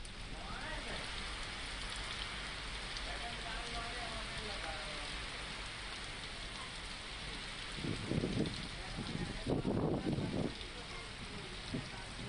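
Heavy rain falls steadily in a rural area of Amreli district during a downpour with strong winds, a dense, even hiss throughout, with a few brief louder bursts near the end.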